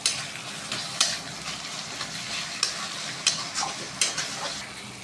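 Onion and garlic paste frying in a pan while a mutton curry cooks, a steady soft sizzle broken by several sharp utensil clicks and scrapes as it is stirred.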